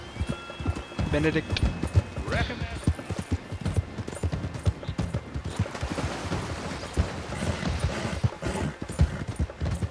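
A horse named Matthew trots along in Red Dead Redemption 2, hooves clip-clopping in a steady rhythm close by, with a brief snort and someone speaking over the hoofbeats.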